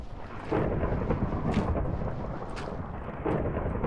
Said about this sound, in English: Wow, that is super loud thunder.